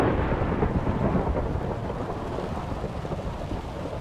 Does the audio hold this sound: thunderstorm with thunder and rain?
yes